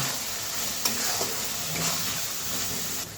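Potato, pointed gourd and paneer curry being stirred and fried with tomato paste, a steady close sizzle and hiss broken by a few scraping utensil knocks.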